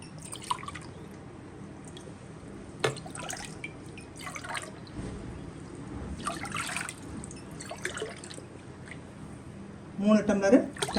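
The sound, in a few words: water poured onto ground rice and lentils for kozhukattai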